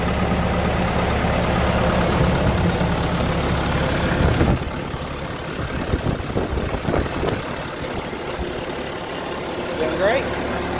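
An engine idles steadily while a hydraulic cylinder with freshly replaced seals is cycled. A loud rumble drops partway through into a lower, uneven chug with some mechanical knocks, and someone talks at times over it.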